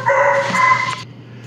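A new puppy barking and yipping indoors, a high, tonal bark with a whiny edge lasting about a second, close by over a low background hum.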